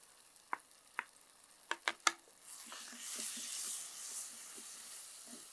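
Ground spice paste is sautéed with potato and pumpkin in a pan for a Kashmiri potato curry: a few sharp utensil taps come first, then a soft, steady sizzle with occasional stirring scrapes.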